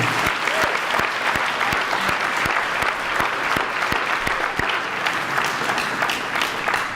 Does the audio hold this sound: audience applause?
yes